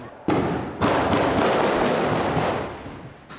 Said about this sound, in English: The drug traffickers open fire.